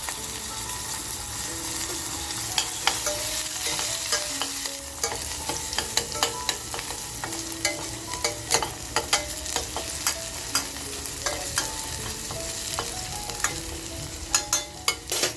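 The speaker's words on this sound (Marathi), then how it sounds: "ते टाकूया पहिलं तेलामध्ये आणि खमंग परतवून घेऊया" Onion and other ingredients sauté in a small amount of oil in a pan, a continuous close sizzle with frequent light clinks and scrapes of a spoon stirring throughout, no voices.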